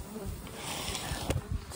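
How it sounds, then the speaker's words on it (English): A dense, continuous buzzing of a small cluster of honey bees sounds close by on a cold morning, steady throughout, with some rustling and handling noise mixed in. "It's a little cluster of bees."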